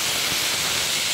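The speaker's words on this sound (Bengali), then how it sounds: "উচ্ছেগুলো এবার দিয়ে দিচ্ছি। একটু ভেজে নেব।" Bitter gourd slices fry in a pan with a steady, close, bright hiss and sizzle, continuous and without talk.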